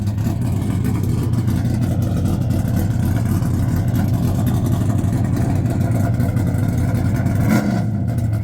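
A race car at Bonneville Speed Week pulls away from its push truck, a loud steady engine roar drawn out and sustained throughout, close and dominant.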